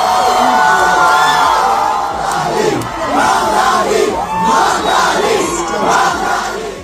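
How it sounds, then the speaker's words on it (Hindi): A large New York crowd celebrates a mayoral election win, loudly chanting a name in rising and falling waves of shouting and whooping, close and dense throughout. "पूरा न्यूयॉर्क उनकी जीत का जश्न मना रहा है और जोहरान जोहरान चिल्ला रहा है।"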